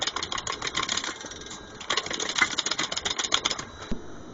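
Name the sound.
hydraulic jack on pipe bender pumping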